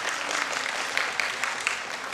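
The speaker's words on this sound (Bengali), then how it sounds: "আমরা তাদেরকে করতালি দিয়ে অভিনন্দন জানাতে চাই" An audience in the Chhayanaut auditorium in Dhaka bursts into steady, full applause, a dense wash of clapping with a few sharper individual claps standing out near the end.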